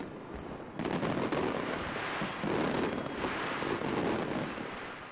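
A New Year fireworks display in Azerbaijan: dense, continuous crackling and booming bursts, loud and rolling without pause.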